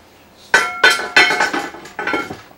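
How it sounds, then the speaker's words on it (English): A lid is slammed onto a pot of Cajun chicken spaghetti, giving a sharp metallic clang followed by several quick ringing rattles as it settles, each hit close and bright. "we're going to slam the lid on, turn the heat to a simmer"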